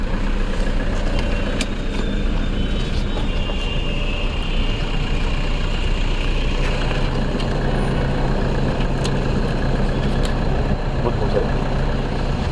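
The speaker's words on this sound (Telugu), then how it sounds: "ఇక్కడ ఒకసారి ఇంజన్ సౌండ్ కూడా వినిపిస్తాం మీకు" A loud 2.5-litre engine of a 2015 Toyota Innova idles steadily and close by, a constant low rumble with a few faint clicks and no clear voices.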